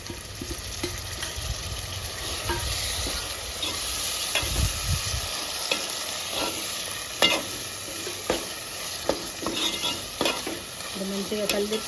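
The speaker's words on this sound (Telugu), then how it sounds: "మంచిగా కలిదిప్పుకొని మూత పెట్టి టమాటా మంచిగా మెత్తగా మగ్గేంత వరకు ఉంచుకోవాలండి" Chopped tomatoes sizzle and fry in a pan for a fish gravy, with a steady close hiss and scattered scrapes and taps of a stirring spoon, no talking.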